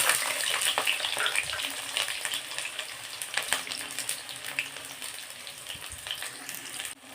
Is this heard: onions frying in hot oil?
yes